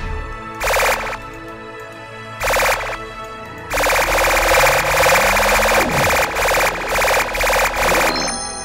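Bursts of heavy automatic gunfire from a large gun in The Spatials combat, several loud rapid-fire volleys separated by short pauses, then a long sustained stretch of fire with faint electronic tones underneath.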